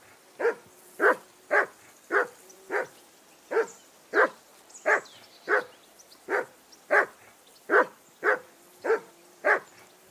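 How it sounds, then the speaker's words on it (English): A dog barks steadily in the video game Kingdom Come: Deliverance II, about sixteen evenly spaced barks in a row, fairly close and loud, with a faint background hum and no talking. "Jesus, Henry, that barking's driving me nuts!"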